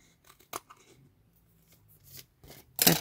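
Scissors snip paper tape for an envelope journal, several sharp close cuts spaced irregularly among soft paper rustles, with a louder crisp cut at the end.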